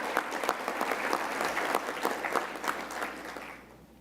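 Conference audience in Grand Cayman applauding at a healthcare conference's opening presentations, a dense steady clatter of many hands that carries for about three and a half seconds before fading out.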